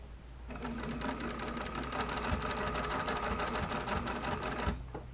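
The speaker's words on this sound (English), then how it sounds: "do a little bit more stitching to secure it down" A sewing machine runs steadily while stitching a bra being altered, a close, even mechanical whirr with rapid needle rhythm that starts abruptly and stops just before the end.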